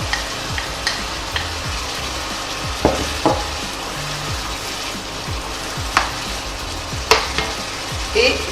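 Ground meat and onion frying in a pan for Mexican lasagna, a steady close sizzle with occasional scraping stirs and a few sharp clacks of the utensil against the pan, no talking.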